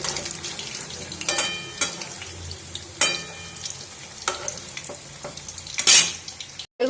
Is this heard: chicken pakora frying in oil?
yes